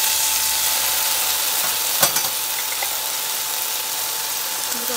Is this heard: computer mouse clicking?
no